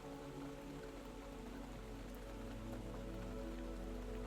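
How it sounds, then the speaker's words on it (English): Gentle rain patters steadily against the windows of a pottery studio at night, a soft, even wash of drops with no voices. "the rain continued its gentle song against the windows"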